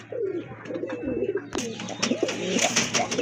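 A pair of black racer pigeons coos in repeated low wavering phrases, close and clear, with some rustling and a sharper knock partway through.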